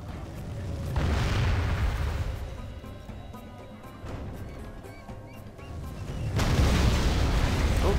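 Artillery barrages in a medieval battle strategy game, heavy booming impacts with a rumbling roar that swells loudly, fades into a background din, then surges again near the end.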